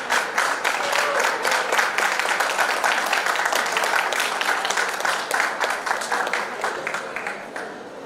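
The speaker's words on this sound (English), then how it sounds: "Please give a round of applause as we hand over the mic to Daksh" A crowd applauds steadily with dense, fast clapping that holds strong for several seconds, then slowly thins and fades toward the end.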